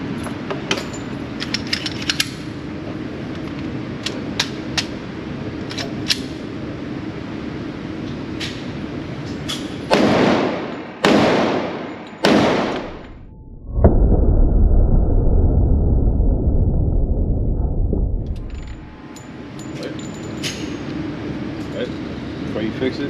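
Three sharp, loud shots from a Smith & Wesson M&P 2.0 10mm pistol firing bear loads, spaced about a second apart, followed by a long low rumble and quieter clatter.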